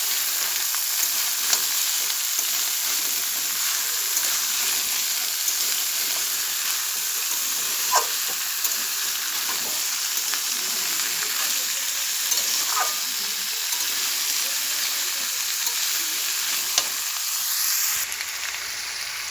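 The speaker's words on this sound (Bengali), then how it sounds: "আদা রসুন আর আলু ভালো মতো ভাজা ভাজা হয়ে গিয়েছে।" Potato pieces with ginger and garlic fry in hot oil, giving a continuous close sizzle with occasional soft scrapes and taps of stirring, and no voices throughout.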